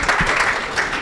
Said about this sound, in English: Give her a round of applause and also give yourselves a round of applause.